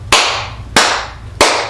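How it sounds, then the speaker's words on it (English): Three sharp, loud hand claps spaced evenly about two-thirds of a second apart, each ringing briefly in a small room, with no talking in between. "And then clap them 3 times."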